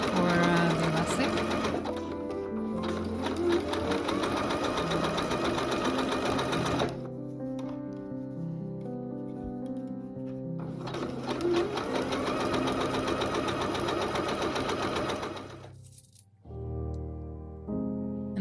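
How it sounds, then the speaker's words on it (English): A sewing machine zigzag stitches elastic onto a bra, running in long loud buzzing bursts with a pause between passes and a short stop near the end. "And then I just zigzag stitched."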